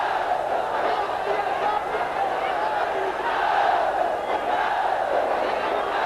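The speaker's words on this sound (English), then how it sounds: "Crowd chanting every winning punch" A large boxing arena crowd roars and chants steadily during a fight, a dense, continuous wall of massed voices filling the hall with no pause.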